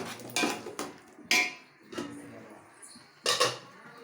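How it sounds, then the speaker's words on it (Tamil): Chicken biryani with tomatoes and yogurt stirred in a metal pot, a few scraping clanks of the spoon against the pot at an uneven pace, close and fairly clear, with quiet gaps between strokes. "தயிர் சேர்த்து நல்லா கிண்டி விட்டு நன்றாக கிண்டவும்"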